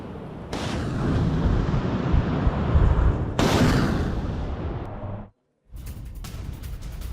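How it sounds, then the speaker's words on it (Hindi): An MLRS rocket barrage pounds Ukrainian positions, a loud, dense, roaring rumble of launches and blasts that swells in waves, cuts abruptly to a brief silence, then resumes. "MLRS से यूक्रेनी ठिकानों पर बारूदी बौछार कर दी गई"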